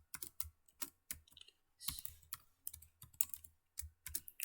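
Keys on a computer keyboard are typed in quick, irregular bursts of close, crisp clicks while HTML marquee-tag markup is entered, with short pauses between runs and no talking.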